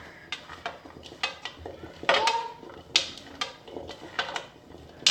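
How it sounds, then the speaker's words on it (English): Small-to-medium sweet potato pieces being tossed in a bowl, giving a string of clattering, scraping knocks at an uneven rhythm, close and moderately loud, with no talking. "Really toss these up, get this mixed in there."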